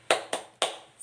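Three sharp, evenly spaced claps of a schoolchildren's Indonesian 'tepuk semangat' spirit clap in a first-grade classroom, close and crisp with a fourth starting at the end.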